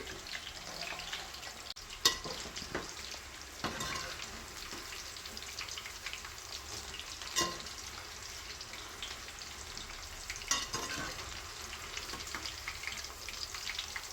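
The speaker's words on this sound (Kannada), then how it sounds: "ಮೀಡಿಯಮ್ ಫ್ಲೇಮಲ್ಲಿ ಸ್ವಲ್ಪ ಹೊತ್ತು ಬೇಯಿಸಿ." Chicken kebabs fry in oil over a medium flame, a soft, even crackling sizzle that runs steadily throughout, with a few faint clicks from a utensil now and then.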